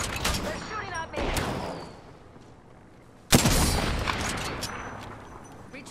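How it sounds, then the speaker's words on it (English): Enemy gunfire in Apex Legends: bursts of rapid shots, a flurry early on, then a sudden loud volley with a rumbling tail, mixed with game effects and a brief spoken callout. "They're shooting at me"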